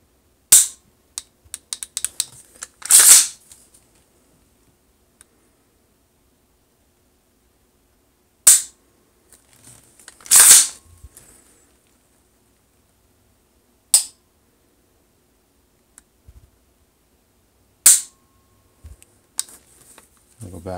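Larue and Geissele rifle triggers dry-fired, giving sharp isolated mechanical clicks spaced several seconds apart with short rattles, close up against near silence.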